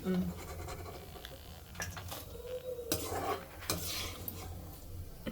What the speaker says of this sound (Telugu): ఇప్పుడు ఇందులో వేసేద్దాం దీంట్లో మిక్స్ చేసుకోండి